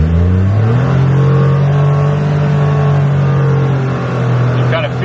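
Ford Ranger pickup truck on an economy ECM and TCM tune, its engine droning loud and steady through a 0 to 60 acceleration run, with a low sustained tone and a faint shift near the end.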